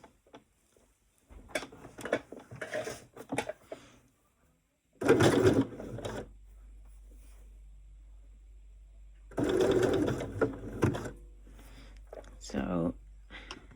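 Sewing machine running short bursts of stitches while sewing a blind hem on a folded fabric edge, two loud buzzing runs separated by quieter handling and a person talking in between.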